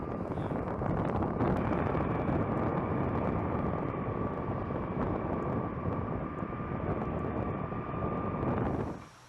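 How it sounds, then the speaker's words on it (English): An LC-130 propeller aircraft on wheel-ski gear with eight-bladed propellers roars loudly and steadily up close, a constant engine drone with a sustained hum that fades away at the end. "the U.S. military uses the LC-130 aircraft, equipped with wheel ski gear and 8-bladed propellers"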